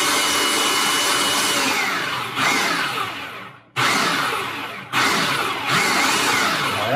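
A food processor chopping onions for bourbon bacon jam whirs loudly and close in pulsed bursts, several seconds of grinding roar broken by brief stops and restarts.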